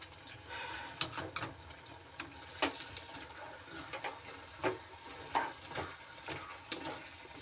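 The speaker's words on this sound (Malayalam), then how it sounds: "നമുക്കത് നല്ലതുപോലെ ഒന്ന് ഇളക്കാം മീൻ കറിയും മീൻ പൊരിച്ചതും ഇളക്കാം" A spoon stirs fish curry and fried fish in a pan, giving a series of soft scrapes and clinks over a faint sizzling background in a home kitchen.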